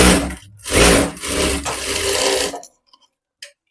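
A sewing machine runs in several bursts while stitching a hook strip onto a blouse with a half collar: loud, close whirring that starts, pauses briefly, then runs again and stops abruptly, followed by a couple of faint clicks.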